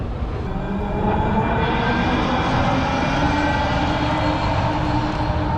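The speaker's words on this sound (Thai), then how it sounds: "เขามีรถรางด้วยนะครับในเมือง" A city tram rolls past on a Houston street, a loud steady rumble with rhythmic rail clatter and a low mechanical drone that holds throughout.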